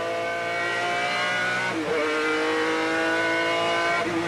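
Onboard a Gulf-liveried McLaren V12 GT car racing at Silverstone in 1995, its engine screaming loud and close at high revs, then dropping sharply under hard braking into a corner before winding back up, with no talk over it.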